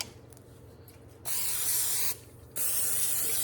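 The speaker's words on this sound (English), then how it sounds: "I'm going to spray it. Spray it a little bit more." Cooking spray from a can hitting a hot griddle while making sweet corncakes, two bursts of broad hissing spray, the first about a second long, the second longer, close and steady with no talk.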